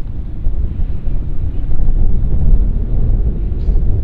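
Strong outdoor wind buffets the microphone on a golf course, a continuous low rumbling roar that swells slightly midway and persists throughout, close and loud with no clear talk.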